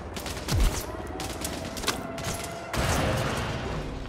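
Pistol gunfire in the Bravo Team video game, sharp shots cracking among a busy din of other fire and mechanical clatter, with a louder burst of gunfire later, fairly close.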